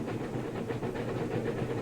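Two trains pulling into a station in the railway game Railroad Corporation 2, with a continuous rolling rumble, a steam-like hiss and faint rhythmic clatter holding at a steady level throughout, with no voices.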